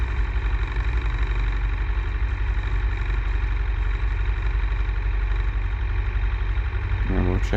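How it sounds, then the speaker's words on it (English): Light aircraft piston engine running steadily during a magneto check, slightly rough, a loud continuous drone heard close from inside the cockpit with a brief speech burst near the end. "See if the engine's running rough or not, left and right."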